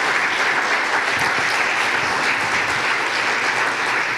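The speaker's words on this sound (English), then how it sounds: "You can applaud for the candidates." Audience at a Wolfeboro candidates' night applauding the candidates, a steady dense round of clapping from a room full of people, continuous throughout.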